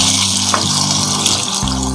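Water pours steadily and loudly into a cooking pot for a salan of arvi and gosht (taro root and meat), a continuous gushing splash heard up close without any voices.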